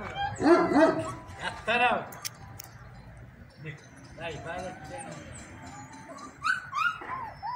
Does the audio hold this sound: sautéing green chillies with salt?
no